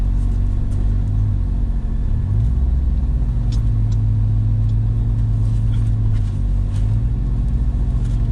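A Camaro SS SLP sits close by, its engine a deep, steady low rumble while reversing, with a couple of brief dips and shifts in the throb.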